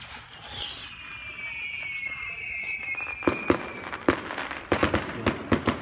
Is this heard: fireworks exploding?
yes